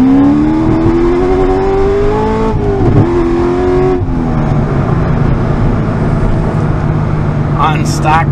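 A ZR1 car accelerates hard on stock Michelin tires on asphalt with ProEFI traction control on, its loud engine note rising in pitch through repeated gear pulls, with faint talk underneath.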